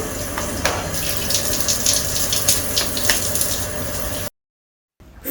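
Water runs steadily from a tap in a room at the Eco Cozy beachfront resort in Cha-Am, a close, even gushing hiss lasting about four seconds before cutting off abruptly into silence.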